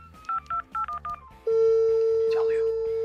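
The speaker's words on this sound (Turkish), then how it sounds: "şimdi Engin Baytar'ı arıyoruz" A phone number is keyed in as a quick run of short touch-tone beeps, then a long steady line tone follows. Background music plays softly underneath.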